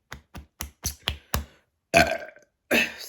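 Burping while eating on camera: a fast run of six short percussive taps, then two long, loud, rasping belches close to the mic.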